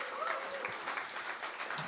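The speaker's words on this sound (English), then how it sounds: "So can we please have a round of applause for everyone working here?" Applause from a small live audience at a blues and rock gig, giving a steady, even patter of many hands at moderate distance with a faint voice or two mixed in.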